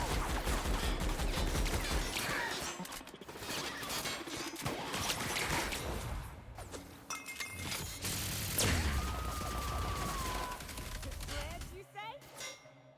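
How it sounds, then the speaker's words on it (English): Rapid gunfire from a first-person video game, The Outer Worlds, with sustained bursts of shots mixed with metallic clangs and impact sounds, loud and dense throughout, followed by a brief whining tone near the end. "Ellie, don't walk in front of me while I'm firing"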